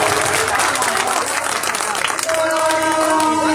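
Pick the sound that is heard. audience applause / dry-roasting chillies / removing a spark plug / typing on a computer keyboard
audience applause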